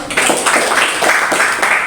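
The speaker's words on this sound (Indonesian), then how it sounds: "tepuk tangan ya" Audience applauding at a school dissemination session on positive culture, a brief burst of many hands clapping in a dense, even patter, fairly loud and close, with no talk over it.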